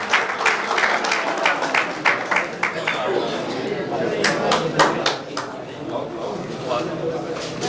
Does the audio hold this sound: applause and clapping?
yes